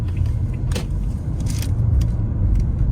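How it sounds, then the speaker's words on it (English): Steady road traffic in Venice, Florida, a continuous low rumble of cars and engines close by with a few passing swells, no talking. "just look at all this traffic over here already"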